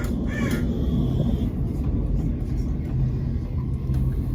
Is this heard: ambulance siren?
no